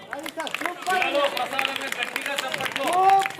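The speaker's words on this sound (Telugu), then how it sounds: "గట్టిగా చప్పట్లు" An audience at a Telugu mother-language day celebration claps steadily in a dense patter of hands, while someone speaks loudly over the applause.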